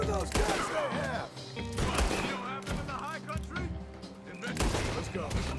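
Gunfire in Red Dead Redemption 2, with several sharp bursts and a fusillade crackling over a busy game soundscape of music and voices, shots recurring every second or so at close range.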